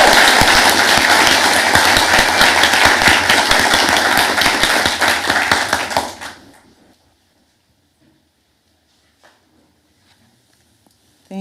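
A large audience at a university fisheries science graduation ceremony gives dense, sustained applause for about six seconds, then it fades out to near silence with only a few scattered small sounds.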